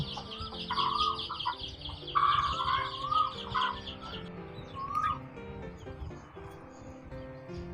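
A fighting hen brooding in a coop clucks in a series of short, fairly close calls over steady chirping of small birds and chicks in the background.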